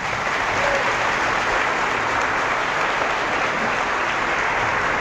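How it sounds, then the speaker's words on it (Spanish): A church audience at a Spanish-language evangelical Bible debate applauds steadily, a dense, even wash of clapping that holds at constant loudness for the whole stretch with no voices rising above it. "Un aplauso para él."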